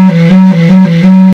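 A bass clarinet, freshly assembled, sounds one steady low note held for over a second, loud and close with a slightly buzzy reed tone and small swells, alone with no talk.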